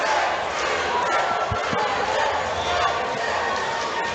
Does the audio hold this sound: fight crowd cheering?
yes